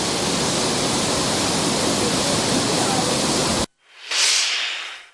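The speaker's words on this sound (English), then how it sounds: "Four sluice gates of the Rajangane reservoir continue to be open." Water rushes from the four open sluice gates of the Rajangane reservoir as a loud, steady, broadband roar. It cuts off abruptly near the end, then a shorter hissing burst follows.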